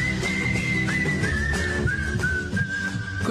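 A person whistles a wavering tune, clear and close, with brief pitch slides between notes and a low background hum.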